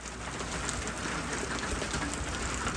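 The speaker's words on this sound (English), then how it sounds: "loving the rain. Look at it." Steady rain falls on a planted garden row during an April storm, an even close wash of patter with faint bird coos in the background and no voices.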